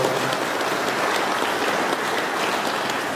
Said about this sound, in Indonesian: Tepuk tangan juga buat beliau-beliau